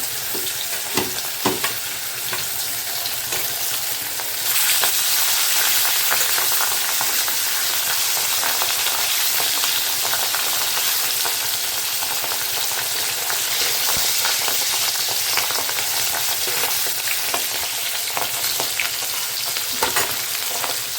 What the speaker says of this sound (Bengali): এদিকে মাছটা ভাজা করে নিচ্ছি